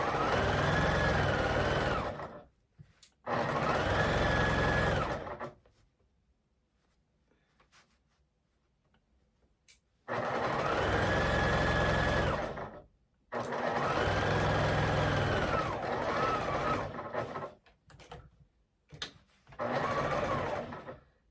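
Sewing machine stitching quilt pieces in several bursts of steady, close whirring, each a few seconds long, separated by quiet pauses.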